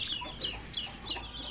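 A hen with her 22 chicks clucks close by in a short burst of soft repeated clucks, with faint higher peeps from the chicks mixed in.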